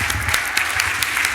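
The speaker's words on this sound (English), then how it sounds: "Round of applause." An audience at an annual meeting's dating-game show claps in a dense, loud, steady burst of applause filling a large room, brief and continuous.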